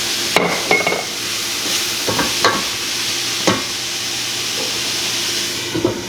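Pasta being stirred in a hot pan on the stove, with several scraping spoon strokes over a continuous sizzle and hiss close by, no talking.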